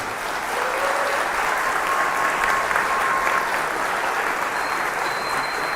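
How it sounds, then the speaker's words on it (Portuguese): Steady crowd applause fills a political speech gathering in Piracicaba, Brazil, dense and sustained at an even level throughout with a few faint whistles riding over it. "Então queria aplausos"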